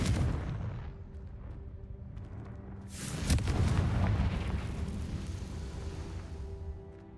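The Confringo fire spell blasts in Hogwarts Legacy. A low rumble gives way to a sudden loud booming burst, followed by a few seconds of roaring, crackling aftermath that slowly dies down.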